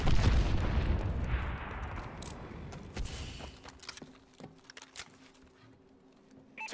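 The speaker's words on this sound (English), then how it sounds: "Friendly missile strikes incoming." Missile strike explosions in Call of Duty Advanced Warfare: a loud, dense rumbling blast fades over a few seconds, followed by a sharp crack and scattered quieter impacts and mechanical clatter.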